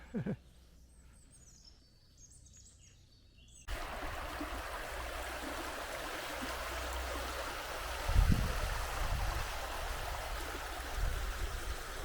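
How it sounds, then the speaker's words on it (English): Water wheel turning in a stream in a wooded area near Limoges, France, heard as a steady broadband rush of flowing water close by, with a brief louder splash or knock partway through and faint birdsong. "A water wheel up there."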